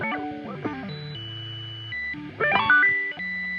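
A Thermae delay pedal driven by a MIDI controller produces pitch-shifted repeats that step between intervals, the tones jumping up and down in distinct electronic stages without any speech.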